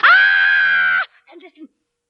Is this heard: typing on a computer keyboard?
no